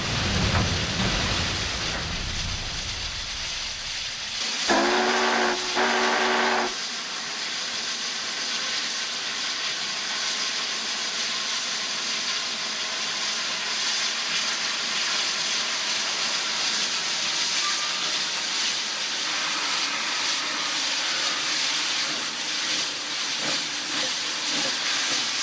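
Union Pacific Big Boy 4014 steam locomotive on Sherman Hill hisses steadily and loudly throughout, with a brief whistle-like tonal blast early on, then continuous roaring steam and mechanical noise.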